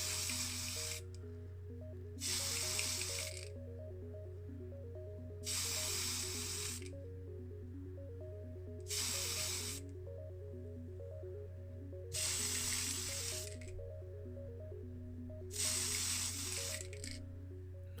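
Spray primer hisses onto the base of a Matchbox Wildcat Dragster (Ford Mustang) model car in six short, evenly spaced bursts over a steady low hum.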